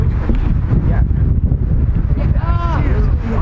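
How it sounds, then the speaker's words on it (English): Heavy wind buffeting the microphone outdoors on a gusty day, a constant loud low roar with a few faint voices underneath. "It's a windy day."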